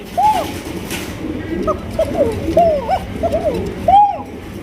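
A pair of red King pigeons coo close by, a string of short rising and falling coos repeated every half second or so over a low background murmur.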